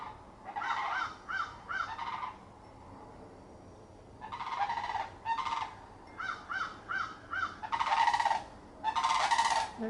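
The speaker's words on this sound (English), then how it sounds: "There's sandhill cranes flying over." Sandhill cranes call while flying overhead, loud rolling bugling bursts in several groups over a quiet outdoor background.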